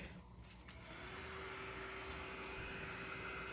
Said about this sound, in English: let me put the teal away and get out my dryer